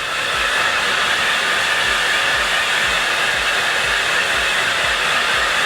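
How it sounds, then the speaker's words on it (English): A hair dryer blows steadily at close range through a wig, a constant loud whooshing hiss with a low motor hum throughout. "I'll even take the blow dryer through it"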